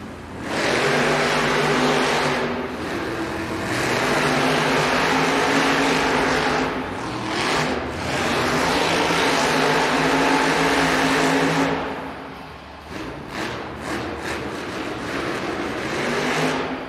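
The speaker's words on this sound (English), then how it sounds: "we are getting restaged for these Monster Jam trucks to pull up to the line" Monster Jam trucks racing off the line at an arena event in Nashville, a loud, sustained engine roar with a break and then renewed revving toward the end, washed in crowd and arena noise.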